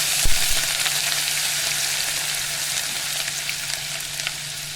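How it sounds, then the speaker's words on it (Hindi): Crushed ginger and garlic frying in hot oil make a loud, continuous hissing sizzle, close and steady throughout, with a brief clatter at the start as they hit the pan. "इसके अंदर अब मैं शामिल करूंगी कुटा हुआ अदरक लहसुन। इसे मैं 1 से 2 मिनट तक हल्का सा फ्राई करूंगी।"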